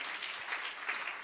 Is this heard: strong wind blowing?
no